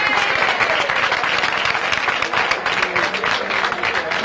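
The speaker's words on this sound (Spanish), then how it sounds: "Un fuerte aplauso para de estas chicas." A crowd at an open-air street protest in Murcia claps loudly for a performing choir of young women and men, the applause sustained and close with a few sharper individual claps standing out.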